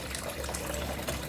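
A tap runs steadily into a kitchen sink while pots are washed, a constant close splashing and trickling stream with no talk.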